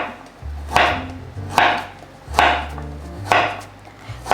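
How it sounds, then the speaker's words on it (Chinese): A knife slices fresh turmeric root on a cutting board, with five firm, evenly spaced chops, each a crisp cut ending in a solid knock, close and clear with no voices. "黄姜切片"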